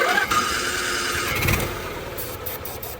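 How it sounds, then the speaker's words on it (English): A small generator engine in an old, cheap RV cranks and catches, then runs with a steady rough mechanical drone at close range. "So maybe this little generator thing will run."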